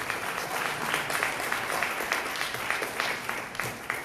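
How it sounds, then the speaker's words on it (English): An audience at a learning-assessment network conference in Kathmandu, Nepal gives sustained applause, a fairly quiet, even patter of many hands with a few sharper nearby claps. "A big round of applause to our supporters."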